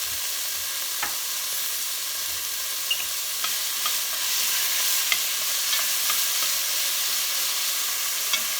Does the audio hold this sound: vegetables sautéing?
yes